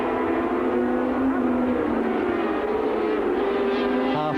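Racing sidecar outfits at Calder in 1985 drone past in a steady, loud engine roar, pitch sliding as the machines brake and run in the slipstream, with a race commentator talking over the noise.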